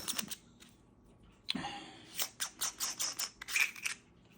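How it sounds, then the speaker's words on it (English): A series of crisp mechanical clicks, close up and fairly quick, a handful in a row with short gaps, as the turret of a Vortex Crossfire II 3-9x50 rifle scope turns through its detents. "you can twist them with a noticeable click on your right and left"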